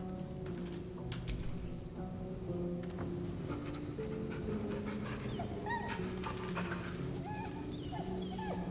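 The dog in Baldur's Gate 3 whimpers and yips in short, high, pleading bursts between soft panting. The sounds are close and repeat irregularly over several seconds.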